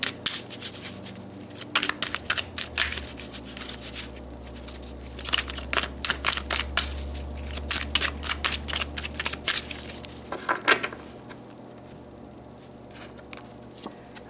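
Tarot cards are shuffled and drawn, giving repeated crisp riffling and flicking bursts in irregular clusters over a low steady background hum, close by and without speech.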